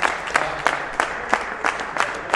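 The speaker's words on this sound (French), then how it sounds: "je voudrais qu'on les applaudisse" Applause for two young RC car racers at an RC Park club race day, a steady crowd of clapping with several sharper near claps standing out at a roughly regular pace.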